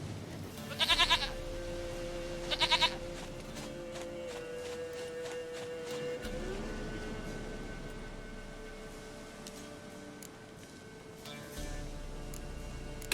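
Two short, pulsing goat bleats from The Witcher 3 video game ring out close together early on, followed by a long stretch of quiet ambient game tones and faint background hum.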